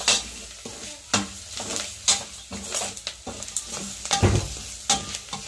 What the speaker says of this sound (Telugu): ఇది బాగా ఫ్రై అయ్యేటప్పుడే